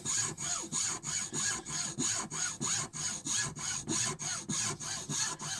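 Hand sawing through small wooden plugs with a cheap hacksaw, steady rasping back-and-forth strokes at a regular rhythm, close and fairly loud, with no talking.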